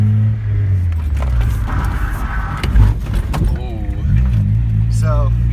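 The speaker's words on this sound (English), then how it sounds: "But here's a nice skid for you guys." A 1994 Nissan 300ZX with an open differential skids through an e-brake slide, engine droning steadily with a tire scrub swelling midway and a rev rise near the end, loud and close, with talk over it.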